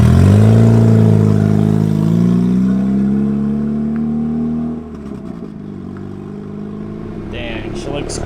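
A turbocharged go-kart engine revving loud and steady, then dropping in pitch and easing off under hard braking, with light clattering near the end.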